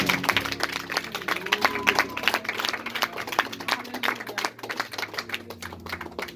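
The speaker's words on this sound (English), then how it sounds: "Somebody give God a hand clap of praise." A church congregation claps hands together in praise, producing dense, rapid, overlapping applause that stays loud and steady from start to finish with no speech over it.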